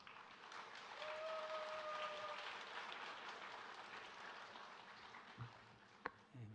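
A church congregation applauds during a worship service, a broad, fairly quiet wash of clapping that swells early and slowly fades, ending with a few scattered knocks and bumps.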